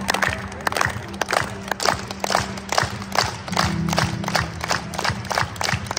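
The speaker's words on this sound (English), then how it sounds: "you guys are gonna clap 10 to 15 times with me" A street-show crowd in Coventry city centre clapping together in a steady rhythm, a string of sharp unified claps with crowd noise in between, fairly near and even throughout.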